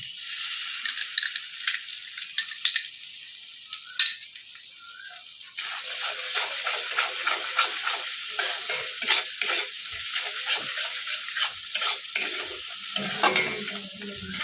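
Cashew-raisin paste fries in a pan for a paneer cauliflower dish and is stirred, giving a continuous hissing sizzle with repeated close scraping strokes that grow busier partway through.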